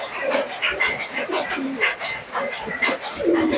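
Giribaz pigeons coo in low, repeated murmurs close by, amid a busy mix of other chirps and background noise.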